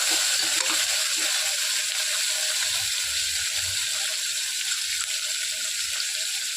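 Onions fry in a pan for vegetable rice, giving a loud, continuous hissing sizzle with faint low thumps and clicks underneath; no voices.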